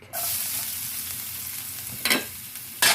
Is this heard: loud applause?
no